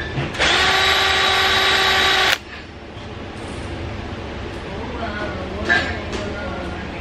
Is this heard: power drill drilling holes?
yes